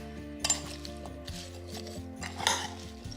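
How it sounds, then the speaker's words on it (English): Blueberries are tossed in sugar in a dish, giving light clinks and scrapes of a utensil against the bowl with a few sharper taps, fairly quiet and close. "We're just gonna toss these blueberries in the sugar"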